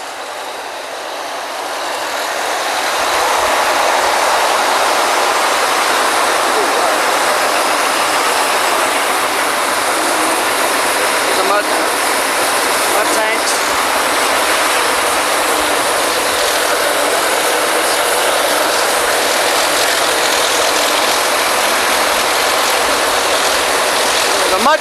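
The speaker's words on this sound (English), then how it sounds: "Mud pumps pump that mud through that black hose, goes down the center of the Kelly" Mud pumps on a 2009 Kelly drilling rig run as a loud, steady mechanical roar with a faint ratcheting rattle, close by and continuous after a quieter start.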